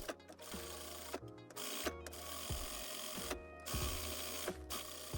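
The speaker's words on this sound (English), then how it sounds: "Just gonna serge this again, then we're pretty much done with our pocket." A serger finishes a coat pocket seam in several short whirring bursts separated by brief stops, fairly close and moderate in level.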